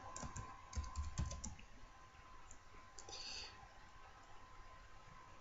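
Code being typed on a computer keyboard, a close, quiet run of rapid key clicks that thins out into scattered taps, with no talking.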